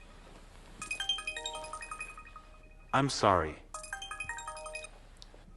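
A mobile phone ringtone plays a repeating electronic melody, fairly loud and close, broken midway by a short spoken apology before the tune resumes and fades.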